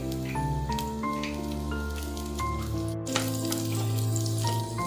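Steady crackling sizzle of crushed garlic frying in hot oil, continuous and close, with faint tonal hum running underneath and no talking.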